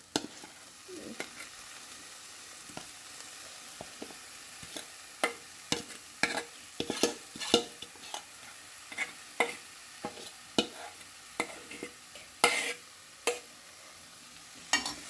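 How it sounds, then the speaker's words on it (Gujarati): Pea kachori filling pieces roast in a pan over a low gas flame, a soft steady sizzle broken by frequent sharp scrapes and clicks of stirring, close and with no voices. "એ થોડા પીસ આપણે અંદર એડ કરી અને શેકાવા દઈએ."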